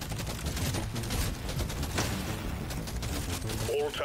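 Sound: gunfire in Deep Rock Galactic: Survivor video game

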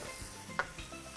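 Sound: skins sizzling in butter in a pan

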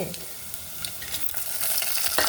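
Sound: dried red chillies sizzling in hot oil for tempering

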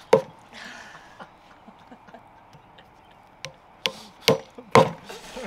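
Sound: hammering plugs into a log

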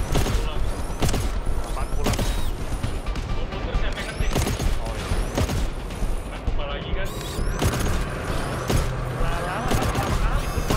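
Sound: shotgun fire in GTFO video game

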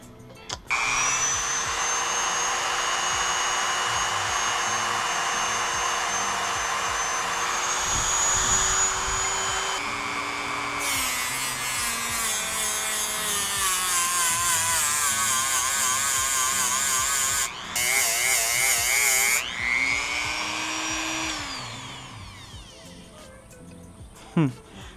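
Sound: power tool polishing wheel buffing a supercharger

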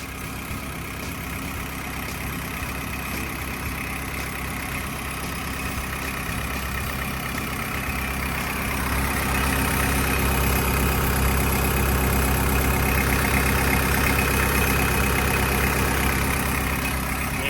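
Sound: excavator diesel engine idling

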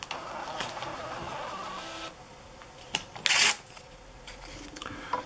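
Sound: small computer printer printing a program listing

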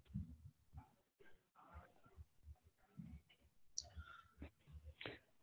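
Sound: computer mouse clicking

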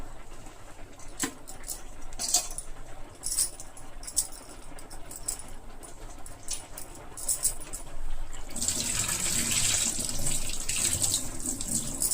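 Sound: washing tamarind leaves under running water

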